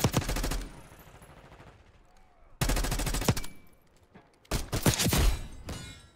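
Rapid automatic gunfire from Call of Duty Black Ops 6 multiplayer comes in three loud bursts, with quieter gaps and faint game sounds between them and no talking.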